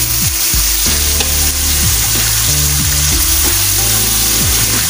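Beef strips sauté loudly in a hot pan, a dense sizzle broken by irregular scraping strokes of a spatula that give a rough, grinding rhythm close up.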